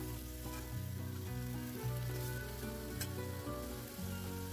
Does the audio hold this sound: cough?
no